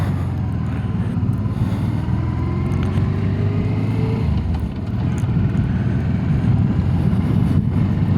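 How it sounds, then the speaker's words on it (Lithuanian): A motorcycle engine drones loudly and continuously while riding through town on a windy day, its steady rumble dipping briefly before roaring on. "baisiai ūžia motociklas"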